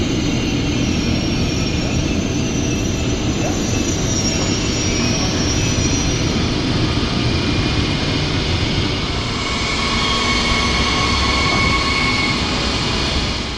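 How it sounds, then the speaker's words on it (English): A Class 101 electric locomotive arrives at a station as a steady, loud rumbling roar with a faint high whine, sustained evenly throughout with no voices over it. "now we can take a look at the arrival of the locomotive."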